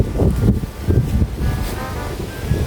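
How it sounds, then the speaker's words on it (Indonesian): Strong wind gusts across a narrow path below a mountain slope near a village, a loud, steady broadband rush that swells and eases without pause. "jalurnya anginnya besar banget"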